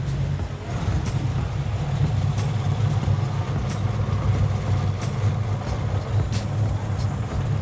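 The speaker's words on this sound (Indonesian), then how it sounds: "Akhirnya setelah seminggu nyala juga mobil ini ya kan." A car idles steadily after finally starting following a week of repair work, a constant low rumble running unbroken and fairly loud throughout with no voices.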